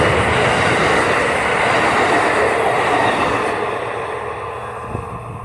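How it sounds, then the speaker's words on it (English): A train rolls past on railroad tracks right beside a fenced backyard garden, a loud, steady rumble of wheels and cars that dominates throughout and eases slightly toward the end. "Here comes the train."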